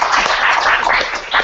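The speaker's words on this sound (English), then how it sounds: "Give it applause." A room audience bursts into applause, a dense, loud wash of many hands clapping at once that swells briefly before fading.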